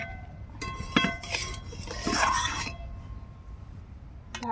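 A lid is set onto a cooking pot of hot water and bhangar fish with green tomato, giving a cluster of close metallic clinks and rattles over a low, steady background hum, with no talking.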